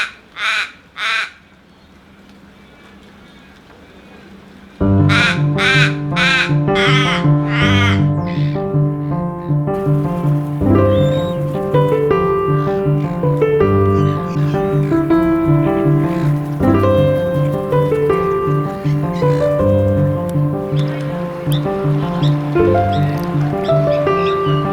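Seabirds on a reef foreshore let out a few loud, harsh cawing calls near at hand, then a steady tonal backing carries on underneath, with scattered calls continuing through it.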